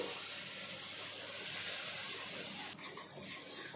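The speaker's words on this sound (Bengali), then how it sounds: "গুড়টা দেওয়ার পর এইভাবে নাড়া দিতে হবে" Jaggery stirred in a hot wok over a high flame: a faint, continuous hiss and sizzle with soft scraping of the stirring, alone with no talk.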